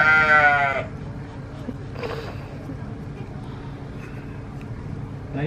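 A sheep bleats once, loud and close, as it is sheared, followed by a long stretch of steady low background noise with soft clatter and faint voices.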